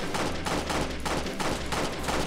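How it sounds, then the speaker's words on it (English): Gunfire in the Roblox game Jailbreak comes as rapid, evenly spaced shots about every half second, loud and close, with no talk over it. "Who's shooting at me?"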